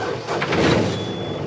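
A sailboat's inboard engine cranks and catches, a steady mechanical rumble with a rising surge at the start and a faint high whine running on, heard fairly close and alone.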